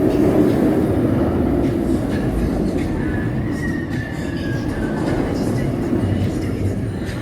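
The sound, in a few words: Banshee B&M suspended looping roller coaster passing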